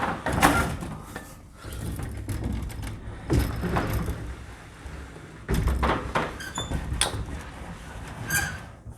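A garage roller door being lifted by hand and guided along its rail, giving irregular rattling and clattering bursts of metal movement, fairly close, with no talk.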